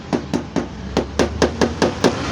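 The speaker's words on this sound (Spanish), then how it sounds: "Para quitar la tapa me voy a ayudar de este martillo de goma. Darle unos ligeros golpecillos" A rubber mallet knocks on the engine cover of an Italika Vortex 250 motorcycle to loosen it, giving about nine evenly spaced, close, sharp taps over a low background hum.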